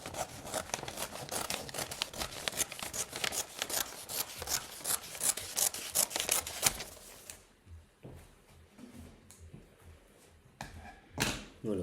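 Scissors snip rapidly through Christmas gift wrapping paper in a dense, crisp run of close cuts, then slow to a few scattered slicing strokes and soft paper rustles.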